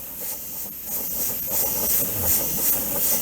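Soft, airy hissing in short bursts from an Iwata High Performance HP-C Plus airbrush puffing on and off close by, with no talking.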